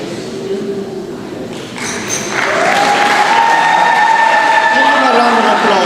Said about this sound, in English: Give them a round of applause, yes.